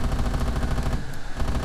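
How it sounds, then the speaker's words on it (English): Rapid bursts of a jet's cannon firing rounds in Arma 3, a loud continuous stream of gunfire with a brief dip before resuming, no talking. "We got this wonderful cannon we're just going to fire a bunch of rounds with because it's cool."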